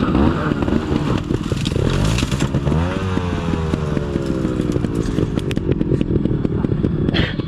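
A trials motorcycle engine runs loud and close, revving and rising in pitch with rattling clatter, no talk.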